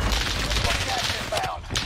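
Dense, continuous gunfire from the Warzone video game, loud and close, a rapid crackling barrage with booming low end that fills the whole moment, with a voice briefly under it.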